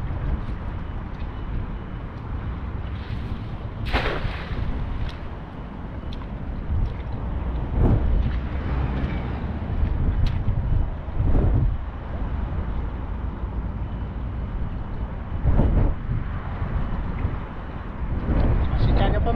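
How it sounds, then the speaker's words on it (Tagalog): Strong wind gusting across the microphone beside the water, a constant low rumbling buffet with intermittent louder blasts, while a person talks faintly underneath. "mahangin lang po."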